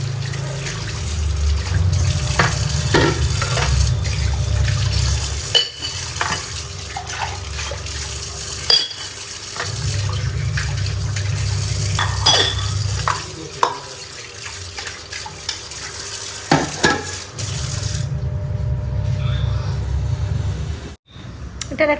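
Dishes being washed under a running tap at home, with water gushing into a sink in long bursts, scattered clinks of utensils, and brief pauses where the flow stops.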